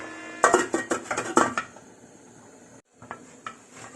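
A lid set onto a cooking pot during tuna curry with coconut milk, a flurry of close metallic clinks and scrapes followed by a pause and a few lighter knocks.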